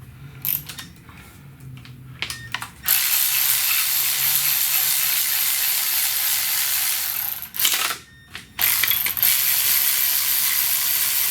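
A ratchet wrench works loose a spacer bracket on a Chevy Cruze engine during an engine swap, with a steady, close, rasping run of clicks that stops briefly and then resumes.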